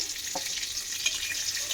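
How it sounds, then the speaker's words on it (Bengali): Pointed gourd (potol) slices fry in a pan of oil, giving a steady, close bubbling sizzle with a few faint stirring clicks, and no voices. "উল্টে পাল্টে একদম সুন্দর করে লাল লাল করে ভাজতে হবে।"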